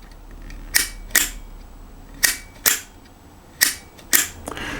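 Remington Miniature Camera shutter firing at its instant speed, six sharp, close mechanical clicks in uneven succession, each with a brief metallic ring, alone with no talk.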